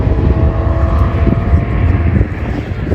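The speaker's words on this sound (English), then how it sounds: "The turbo engine." A turbocharged 1999 Lincoln Town Car engine gives a loud, steady, close roar with a deep rumble and a faint whine above it, running continuously for the whole stretch without talk.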